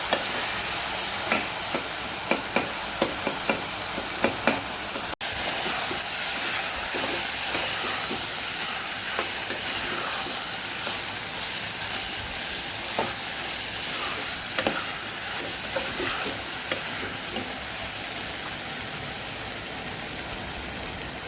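A spoon stirs turmeric, coriander-cumin powder and salt into a sizzling pan of Kathiyavadi green onion and potato curry. Quick scraping strokes come first, then a steady fry hisses on alone.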